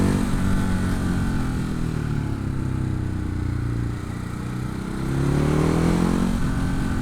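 A Ducati Hypermotard 950 motorcycle ridden on a small country road, its engine droning steadily and close throughout, with a slight dip and then a rise in revs.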